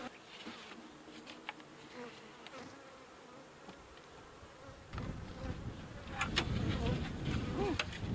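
Honeybees buzzing around an open hive, a busy swarm of close buzzing that grows louder and denser toward the end, with a few faint thumps.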